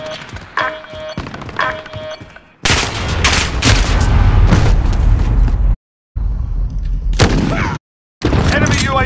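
A heavy-recoil gun in Call of Duty fires sustained loud bursts up close, with sharp thumping shots running in long volleys broken by two abrupt silences, after lighter clicking game sounds at the start.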